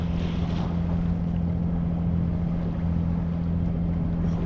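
A sailboat motors under engine power along the French Atlantic coast between Les Sables-d'Olonne and Oléron, its engine a steady, loud drone blended with wind and water noise, with no talking.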